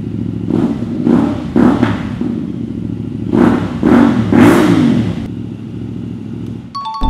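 A 450cc parallel-twin motorcycle, a CFMoto 450MT adventure touring bike, revs in a rough, bassy V-twin-like tone, with several separate throttle blips rising over a steady idle rumble, close and loud.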